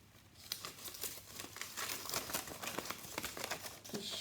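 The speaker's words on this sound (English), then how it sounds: "Then, when you open it out," A folded, cut paper snowflake is opened out by hand, giving close, continuous crinkling and crackling of paper with small sharp rustles throughout, no talking.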